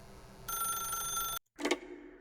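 A telephone rings in The Stanley Parable, one steady bell-like ring of about a second that cuts off sharply, followed after a brief silence by the clatter of the receiver being picked up.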